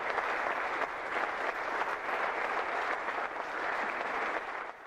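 Audience at a press conference for a departing Barcelona FC figure applauds steadily and loudly for the full stretch, a dense, continuous clapping with no speech over it, easing slightly at the very end.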